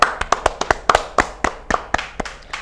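A small group clapping hands on a podcast set, close and fairly loud, about a dozen crisp claps in a quick, slightly uneven rhythm over a few seconds.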